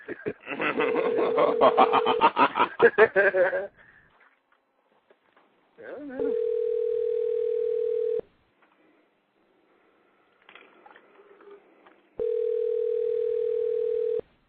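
Telephone ringing in a radio studio: long steady electronic ring tones repeat at intervals, with a burst of speech and laughter before the first ring and a faint voice between.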